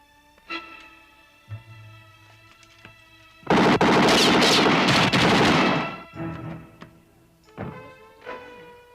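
A loud, dense burst of rapid gunfire lasts about two and a half seconds. A few scattered single shots come before and after it, over a quiet background with a steady tonal hum.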